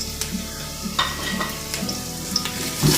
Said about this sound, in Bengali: একটু পেঁয়াজটার সাথে মশলাগুলোকে ভেজে নিব।